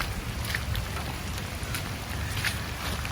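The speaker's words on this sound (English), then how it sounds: "it's been pouring rain" Pouring rain at Cowichan Lake, British Columbia, a steady dense hiss of falling water with faint scattered drops and a low rumble underneath, continuous and without talk.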